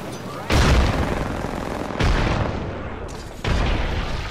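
Gunfire from a golden gun in the Apex Legends video game erupts in three sharp, loud bursts spaced about a second and a half apart, each trailing into a rattling tail.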